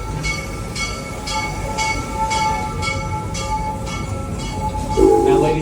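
Serengeti Express amusement park train at Busch Gardens Tampa, rolling wheels and a steady mechanical rumble with rhythmic clacks, a brief whistle-like tone near the end, heard from aboard.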